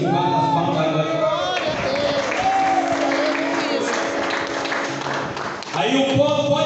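Church congregation clapping together during a sermon, a steady dense patter of many hands filling the room, with voices and singing running underneath throughout.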